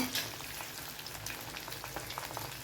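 Ivy gourd (kovakkai) pieces frying in oil, crisping with a steady close sizzle and soft bubbling crackle that runs unbroken throughout, with no voices.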